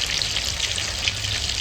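Two pieces of fish fry in hot oil in a pan with a steady, close hiss and crackle, continuous and fairly loud throughout with no talking.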